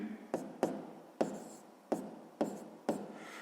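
Pen or chalk strokes scratching out a handwritten math solution, a series of about six separate scratchy strokes with short pauses between them, fairly faint and close.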